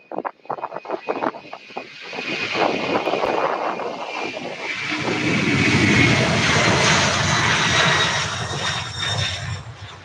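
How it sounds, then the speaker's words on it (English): An Airbus A300 airliner at Louisville airport: a few sharp clicks, then a steady jet engine roar that swells, peaks and holds, loud and close, with no talking. "we have another Airbus A300"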